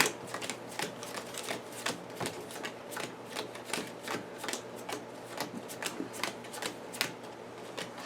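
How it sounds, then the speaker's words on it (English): A deck of game cards being shuffled by hand at close range, a quick run of crisp riffles and slaps repeating steadily throughout, with no talk. "Just gonna shuffle this one more time."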